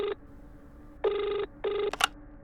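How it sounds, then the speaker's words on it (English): A telephone rings after a number is redialed, giving three electronic ring bursts, the first short and the next two longer, then a brief sharp click at the end. "he slowly redialed the number and held the phone away from his ear while it rang"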